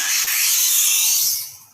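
A scoring tool draws across a plastic sheet while matting and framing prints, making one continuous close, bright scraping rasp that fades out at the end.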